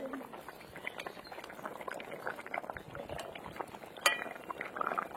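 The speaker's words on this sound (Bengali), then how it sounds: "জল ফুটে উঠেছে, ঢাকনা খুলবো।" Water bubbles and simmers in a covered pot on the stove, a steady soft boil with a light clink of metal near the end.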